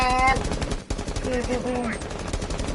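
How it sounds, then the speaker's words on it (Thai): Rapid gunfire in Rainbow Six Siege, a fast stream of close, loud shots like a machine gun, with game tones and faint voices mixed underneath. "เดี๋ยวกูยิงสุ่มแป๊บ"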